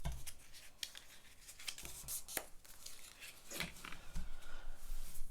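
A die-cut paper shadow box front is folded along its score lines, giving faint, close, crisp creasing taps and rustles scattered irregularly over several seconds in a quiet room.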